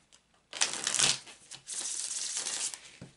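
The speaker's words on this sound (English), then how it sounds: "So I'm shuffling the cards 5 times" A deck of oracle cards is shuffled on a table nearby, two bursts of crisp riffling and flicking paper with a short pause between them, close and fairly loud.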